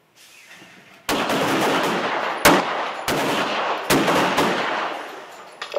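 Handgun shots ring out during an LAPD pistol qualification course, several loud, sharp cracks spaced a second or so apart over a reverberant range with lingering echoes.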